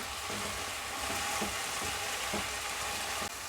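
Green chilies sizzle and crackle in hot oil in a pan while being stirred, a steady frying hiss with soft spoon scrapes recurring throughout.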